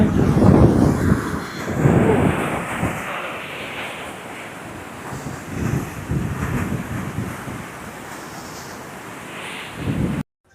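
Loud, surging roar of rushing water near a dam at Thirumoorthy Falls, Anamalai, with heavy wind buffeting the microphone, swelling and easing in waves.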